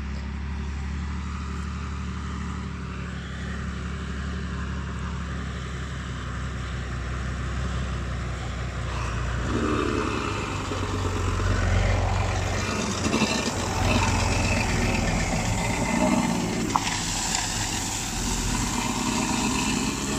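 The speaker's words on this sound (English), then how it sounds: "Here comes Daddy now in the tractor." A steady diesel tractor engine rumble grows slightly louder as it draws nearer on a farm while spreading slurry, droning on continuously with no voices.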